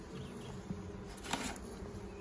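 Honeybees buzz steadily at low volume around a new hive during an inspection, a continuous faint insect drone with a couple of brief soft knocks and no talking.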